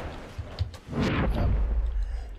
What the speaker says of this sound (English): That is the sound of a shell incoming.